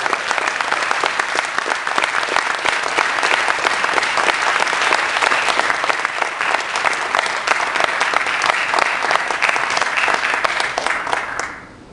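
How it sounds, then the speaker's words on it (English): A political rally audience in Lake County gives sustained, dense applause, a roar of many hands clapping together at even strength before cutting off near the end. "I'm so glad you applauded at that line"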